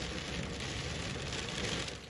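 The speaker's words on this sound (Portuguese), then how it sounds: "Em pouco tempo, muita chuva em BH." Heavy rain pouring down in Belo Horizonte, Brazil, a steady dense hiss of drops on surfaces with no gaps.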